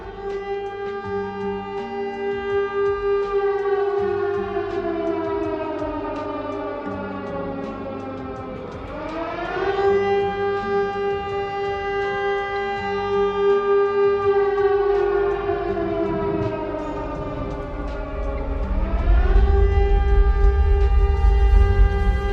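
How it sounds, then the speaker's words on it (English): A town-wide civil defense siren from the film Silent Hill wails loud and close, holding a long steady tone that twice dips and climbs again, with a low rumble building beneath it toward the end. "a siren begins to go off through the entire town"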